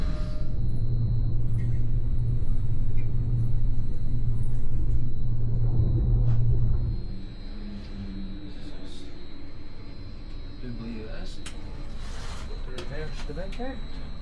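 A moving train carries a steady low rumble inside the carriage, heavy at first, then quieter from midway, with scattered clicks and small knocks above it.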